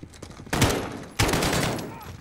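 Two heavy bursts of automatic gunfire in a Call of Duty Modern Warfare battle, each a loud volley that rings out and slowly decays, with faint voices underneath.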